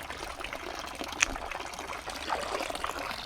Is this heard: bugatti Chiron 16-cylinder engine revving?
no